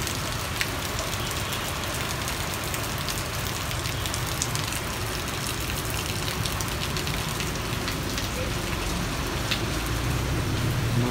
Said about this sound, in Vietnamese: Mưa đây rất là lớn.